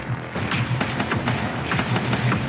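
Explosive charge shots from a weapon in the video game Codename Ocean Keeper, a rapid run of dull thumps and cracks at an uneven rhythm.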